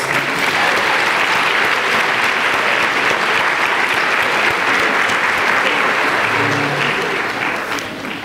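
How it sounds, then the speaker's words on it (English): A large crowd at a retirement celebration gives a warm, dense round of applause, loud and continuous, with a faint voice briefly audible near the end as the clapping tapers. "I want to give a nice warm round of applause to this wonderful band of scholars."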